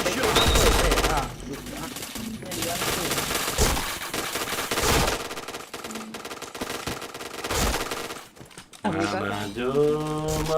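Rapid gunfire in the shooter game Point Blank, dense bursts of automatic fire with short gaps, loud and close, followed by game voice effects near the end.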